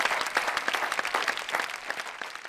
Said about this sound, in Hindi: लेकिन शबाना शबनम के लिए मैं जरा जोरदार तालियां बजाना चाहता हूं।